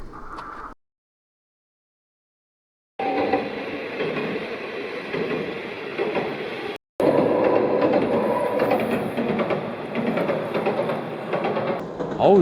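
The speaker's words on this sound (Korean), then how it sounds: "기차 지나가는 거 2대는 찍었는데요" A short local train of one or two cars passes near Ozu, its rumble and wheel clatter rising after a brief silence and then running loud and close, with a momentary cut partway through.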